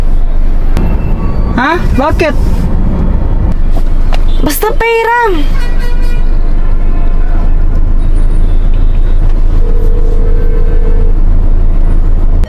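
Busy road traffic noise with constant low vehicle rumble, brief sharp horn blasts and a squeal early on, under close conversational voices.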